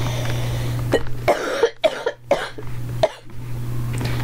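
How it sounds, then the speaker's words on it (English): A Sim character in The Sims 4 life-simulation game coughs several times in short, harsh bursts, close and distinct over a steady low game hum. "I don't like this cough."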